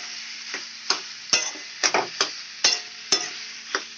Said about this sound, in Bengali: খুন্তির সাহায্যে সুন্দর করে এরকম পেস্ট করে দিতে হবে।